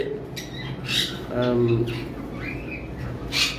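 Pet birds in a shop squawk and chirp in short bursts, near and moderately loud, over someone talking and room noise.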